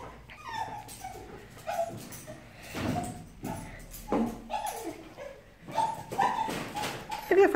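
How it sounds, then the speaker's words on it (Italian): A small dog barks and whimpers excitedly indoors, a string of short yips and whines scattered through the stretch at close range, with a little background noise. "Adesso sentite il mio cagnolino, felice morto perché è arrivato mia figlia."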